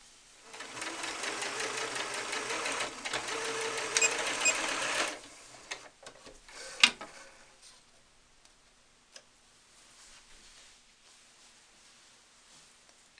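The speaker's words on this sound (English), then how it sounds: "I'm going to sew 1/4 inch from the edge around the side, the bottom, and the other side" Sewing machine stitching a doll's wrap skirt fabric, a rapid mechanical whirring and ticking run for about five seconds, then stopping and leaving faint handling clicks and near silence.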